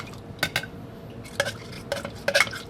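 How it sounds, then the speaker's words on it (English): A bourbon cocktail with lemon juice given a quick stir, several light clinks of a spoon against glass in short uneven bursts, close and quiet with no talk. "we are going to give this a quick stir"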